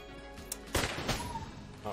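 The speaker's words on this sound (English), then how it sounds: "Explosions are cool." Explosions and gunfire in the video game Enter the Gungeon, a quick cluster of sharp bursts that rumble and crackle over a steady game soundtrack.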